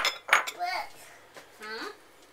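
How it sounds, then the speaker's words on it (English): A spoon clinks against a bowl while mixing cut-up rhubarb with melted butter for a pie, with a few sharp, close taps among an adult's and a voices. "we'll mix it all in with the rhubarb that's all cut up"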